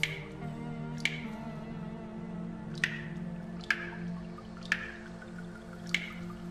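Water drips from a pipe in the video game Look Outside, six sharp, distinct drops falling at irregular intervals over a steady low ambient hum.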